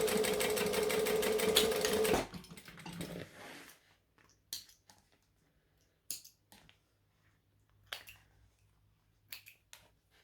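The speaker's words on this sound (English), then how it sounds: "now I'm going to stitch up the sides" Home sewing machine stitching up the sides of a Harridan bag, a loud fast whirring run for about two seconds, then stopping, followed by scattered small clicks and handling sounds in a quiet room.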